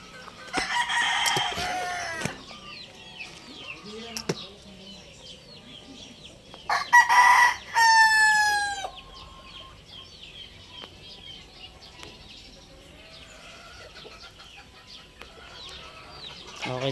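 A rooster crows loudly nearby twice, with quieter clucks and scattered barnyard sounds between the calls.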